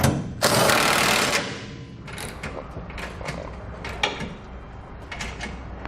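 A socket wrench, 3/4 inch socket, snugs down trailer hitch carriage bolts on a 2012 GMC Sierra, a long close burst of fast ratcheting followed by several shorter clicking runs.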